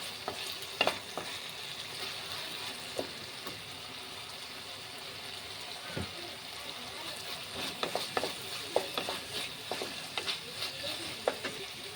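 Tomatoes fry with turmeric and chili powder as a spoon stirs them in the pan, a low steady sizzle with scattered clicks and scrapes of the utensil, close up and without talk.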